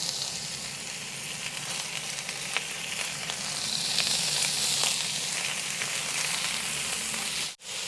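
Cheesesteak meat sizzling on a carbon steel griddle over a Konnected Joe grill, giving a steady, dense hiss of frying close by that holds without pause for several seconds before a brief dip.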